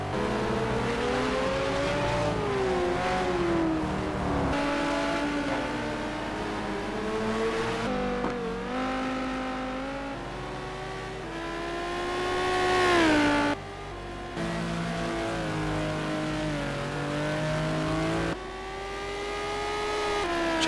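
McLaren race cars lapping Aldo Scribante in a racing sim game, engines whining and revving through gear changes, one car loud and close with others passing, continuous throughout with no talk.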